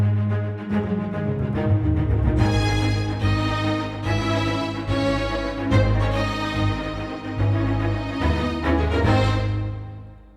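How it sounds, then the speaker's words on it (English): Full orchestral string section carrying a melody over a driving repeated ostinato, dense and loud throughout with rhythmic pulses, easing off and fading on a held note at the end; no voices. "Altogether, the strings sound like this."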